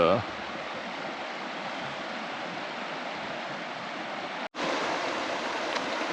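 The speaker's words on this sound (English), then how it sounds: "And then over here is the raging Cache River" The Cache River rushes past a rock-and-boulder ford on a winter hike, a steady broadband roar of flowing water that holds constant throughout, with a brief dropout near the end.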